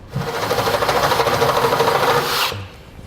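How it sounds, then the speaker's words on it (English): A power drill whirs steadily for about two seconds while drilling out a bolt hole on a 2016 Ram 2500 for a fifth-wheel hitch, a loud close grinding buzz that cuts off abruptly. "So now we're going to drill this out to the size indicated in the instructions."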